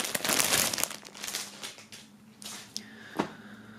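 Plastic-wrapped T-shirt packaging handled up close, giving loud crinkling and rustling that is busiest at the start, then thinner scattered crackles and a sharp crinkle near the end.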